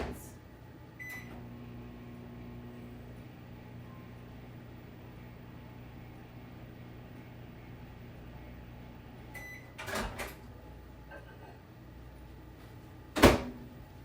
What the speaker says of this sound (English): Let me warm them up just a tad bit in the microwave.